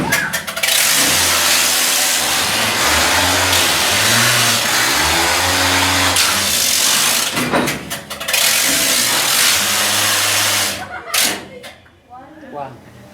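Rail-mounted ore-loading machine in a silver mine starting up and running loud and close, a pulsing mechanical roar that surges and labours in cycles before cutting off, with voices briefly heard over it.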